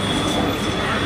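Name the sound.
metro train passing nearby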